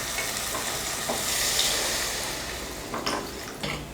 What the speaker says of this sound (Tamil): இப்போ இதில் தண்ணி சேர்த்துக்கலாம்